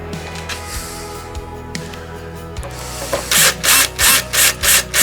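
A power drill reinstalls a part on a DeWalt DWS779 miter saw. A few light mechanical clicks and knocks come first, then five rapid, loud, evenly spaced bursts of driving close by, with no talk.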